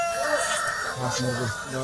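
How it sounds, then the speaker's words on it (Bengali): A rooster crows at a busy Jinjira bazaar in Dhaka, its call rising through steady crowd chatter and market noise, with people talking close by throughout. "এই যে এখানে একটা মোরগ দেখছেন"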